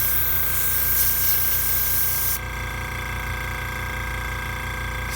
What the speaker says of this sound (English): So I'm going to spray this out.